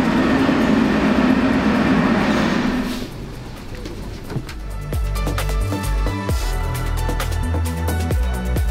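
A Moscow metro subway train runs through the underground, a loud rumbling roar that gives way to rhythmic clicking and clattering of wheels over rail joints, close and continuous, with no voices.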